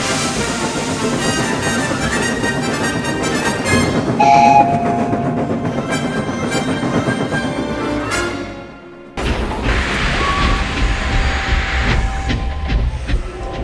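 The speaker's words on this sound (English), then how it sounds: "Gordon the Big Engine had to work harder than ever before." A steam engine runs hard hauling coaches, a continuous rhythmic chuffing and clatter with a short whistle-like tone, briefly dropping out before the loud rolling rumble resumes.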